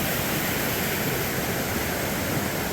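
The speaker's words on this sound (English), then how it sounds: "the normal ford across this river, stream, whatever" Steady rushing water from a stream at a river ford on a rainy mountain trail, a continuous broadband roar close by with no pauses and no voices.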